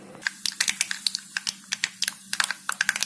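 Mustard seeds pop and splutter in hot oil for a tempering. Dense, irregular crackles come rapid and close, over a faint steady hum, with no voices.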